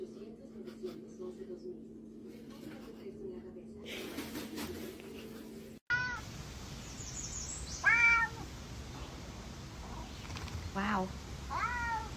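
A cat lets out several drawn-out, complaining meows up close, clustered in the second half of the clip, with a person speaking briefly in between.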